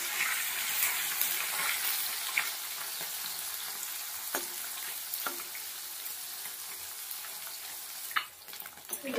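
Small morola fish fry in plenty of hot oil with a continuous, even sizzle and crackle, close to the microphone. A few faint stirring clicks come through, and there is no talk.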